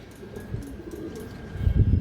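A red female pigeon gives low, soft coos close by, building to a louder throaty burst at the end, with no talk over it.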